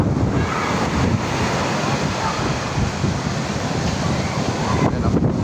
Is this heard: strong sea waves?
yes